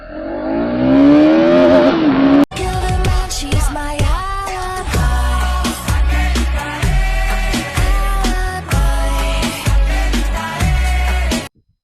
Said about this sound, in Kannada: 0 to 100 ಎಷ್ಟು ಸೆಕೆಂಡಲ್ಲಿ ಕವರ್ ಅಪ್ ಮಾಡುತ್ತೆ ನೋಡೋಣ.